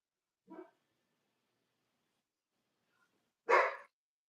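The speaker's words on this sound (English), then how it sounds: "Here come the dogs again barking" A dog barks twice, one soft short bark followed after a long silence by a louder, closer bark.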